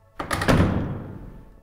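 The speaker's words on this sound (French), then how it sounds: "Le patron les laissa entrer avant de refermer la porte derrière lui." A door shuts once with a solid thump, the closing of a door behind someone entering a house, loud and close, its low resonance fading over about a second with no talk.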